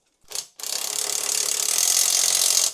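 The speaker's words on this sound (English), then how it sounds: "So that's the last linkage bolt going in now." A ratchet wrench clicks rapidly as a motorcycle rear suspension linkage bolt and nut are tightened, a short burst followed by a long, steady run of fast close-up ratcheting.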